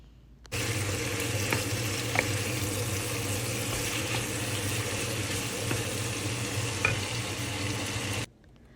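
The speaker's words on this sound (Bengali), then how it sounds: "আমি এখানে অয়েলে জাস্ট চিকেনটা হলুদ মরিচ আর ব্ল্যাক পেপার দিয়ে একটু ভালো মতো ভেজে নিচ্ছি" Chicken frying in oil with turmeric, chili and black pepper gives a steady, close sizzle that runs unbroken for about eight seconds, with a few faint clicks and bumps of stirring over it.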